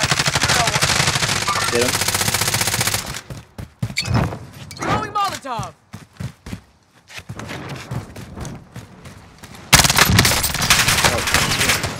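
Video game gunfire comes in dense, loud automatic bursts at the start and again at the end, with scattered shots and footsteps between while players talk over it.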